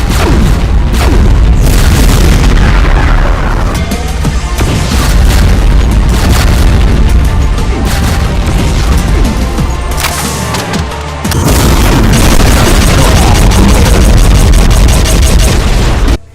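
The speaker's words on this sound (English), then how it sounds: "Firing fast BFG 10K shots." In a Doom mod, a BFG 10K weapon fires in rapid succession. It makes a relentless barrage of loud, booming blasts and crashing explosions that overlap into a dense roar, with only a brief dip near the middle.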